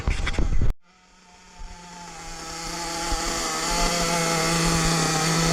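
Nitro engine of a Hobao Hyper VS2 RC buggy idling during break-in, a loud, steady buzzing drone that follows a short burst of noise and a brief cutout.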